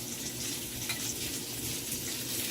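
Food sizzles steadily in a lightly oiled pan, a continuous broadband hiss of frying at moderate level throughout, with no talking.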